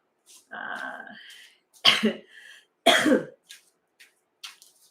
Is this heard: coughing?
yes